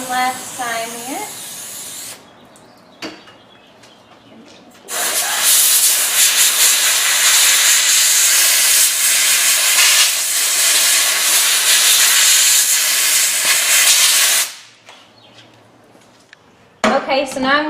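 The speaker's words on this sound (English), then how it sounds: "Spray it down one last time here." Cleaner sprayed hard onto the wheel bearing and brake hub of a 2007 Chevy Malibu during a front pad and rotor job, a loud continuous hiss lasting about ten seconds, with shorter spray bursts and brief talk before and after.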